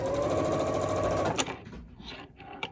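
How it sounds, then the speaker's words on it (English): A sewing machine stitches quilt sampler blocks in rows, a fast steady mechanical whir and clatter for over a second that then stops, followed by soft handling of fabric nearby. "So I'm just sewing these in rows."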